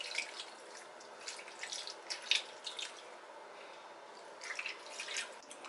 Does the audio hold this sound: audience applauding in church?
no